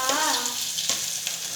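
Carrots drop into hot oil with asafoetida and sizzle in a loud, bright, steady crackle that lasts the whole moment.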